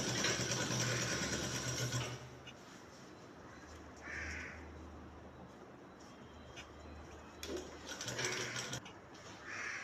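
A sewing machine stitches canvas into a shirt collar in short runs, a fast mechanical whir at the start and again near the end, with quieter pauses between.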